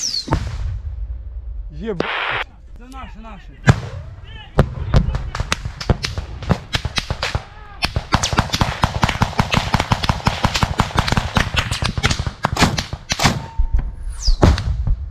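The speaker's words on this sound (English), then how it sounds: "The Ukrainians are trying to drive them out with grenade launchers. Bullets are flying everywhere." Grenade launchers and gunfire go off in trench combat during the war in Ukraine, a dense run of sharp bangs and thumps, some near and some distant. Brief shouting voices come through early on.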